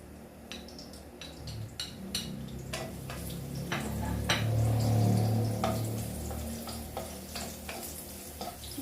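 Garlic frying in a pan, a steady close sizzle with repeated metallic clinks and scrapes of a utensil against the pan throughout.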